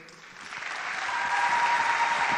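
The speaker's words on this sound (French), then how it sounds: "sous vos applaudissements, nous invitons la boursière Bassinsa Boufouani-Kissa Mariette." Steady applause from an audience at a scholarship award ceremony, building slightly in strength over a couple of seconds, warm and continuous without speech.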